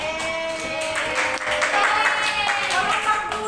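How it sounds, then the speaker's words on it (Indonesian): A classroom group claps together, a close, moderately loud patter of hand claps lasting a few seconds, with children's voices mixed in. "Tepuk tangan dulu, tepuk tangan."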